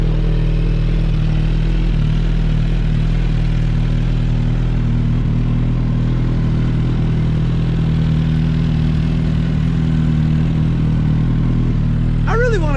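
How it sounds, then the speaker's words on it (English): Warm engine of a 2022 Suzuki Hayabusa idling close by, a steady low rumbling hum that holds even for the whole stretch, with a brief chirp near the end. "I've already got it warmed up. The engine is warm."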